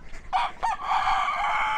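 A rooster crows once, close and fairly loud, in an outdoor rural yard with light background noise.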